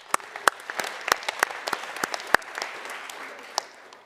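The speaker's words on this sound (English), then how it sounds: "Give yourselves a round of applause." Attendees at a backcountry safety workshop panel applaud themselves, a brief round of scattered clapping from a modest crowd, with a few loud close claps punctuating a softer patter.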